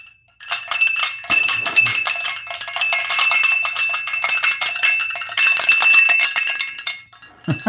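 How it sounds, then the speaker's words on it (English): A small handheld bell rung repeatedly in celebration, bright continuous jangling clangs for several seconds, close and fairly loud with brief pauses. "every time we get to 100 thumbs up, I ring a bell"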